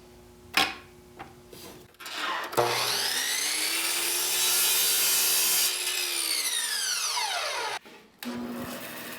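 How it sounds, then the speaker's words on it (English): A power saw cuts wooden center sections to length for a circle cutting jig, whining up for several seconds of steady cutting before winding down, with short bursts of handling noise before and after. "I could cut the center sections to length"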